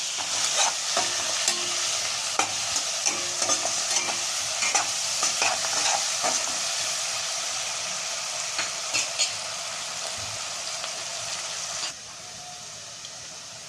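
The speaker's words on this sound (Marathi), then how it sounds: "आपला कांदा जो आहे आता छान असा परतला गेला आहे" Chopped onion for a leftover-chapati poha sautéing in a pan, a steady close sizzle broken by repeated scraping stir strokes, softening slightly near the end.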